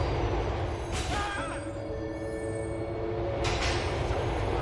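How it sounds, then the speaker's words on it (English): Train at a subway station in Liberty City within a video game, a steady low rumble of rolling carriages with bright screeching tones and two sharp bursts of noise, no talking. "Stepping on the train."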